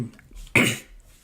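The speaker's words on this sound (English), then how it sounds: "pardon the coughs" A single brief, close cough cuts in sharply over a quiet background.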